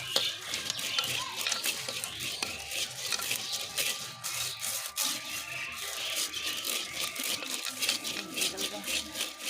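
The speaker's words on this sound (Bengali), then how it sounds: "মুড়ি ভাজার সময় জালটা কড়াভাবে দিতে হয়।" Red rice is roasted in salt in a pan over a new clay stove to make puffed rice. A dense, continuous gritty rustle of grains and salt being stirred runs throughout, loud and close.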